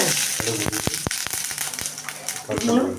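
Mustard seeds pop and splutter in hot oil during tempering for a Tamil capsicum kootu poriyal, a dense run of sharp crackles and sizzling bursts over a low background voice.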